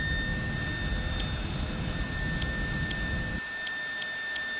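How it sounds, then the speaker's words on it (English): A jet engine roars with a steady, loud broadband rush under a high whine, the low roar cutting off sharply partway through, leaving a thinner hiss with periodic faint ticks. "Afterburner activated."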